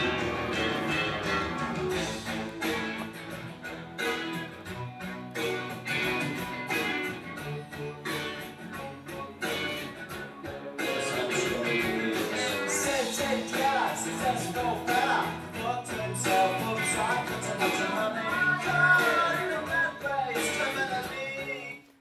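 Pop song with a full band arrangement of guitars, bass and drums and a melodic vocal line, playing at moderate level and swelling louder partway through.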